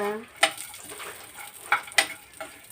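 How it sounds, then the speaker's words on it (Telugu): Dry fruits for rava laddu fry in a pan under a faint sizzle, broken by a few sharp clinks of a spoon against the pan, with a short voice at the very start. "డ్రై ఫ్రూట్స్ వేయించుకుందాం కూడా బాగా"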